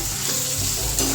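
Finely chopped onion frying in oil in a kadhai for chicken biryani, a bright close sizzle with brief scraping of stirring over about a second.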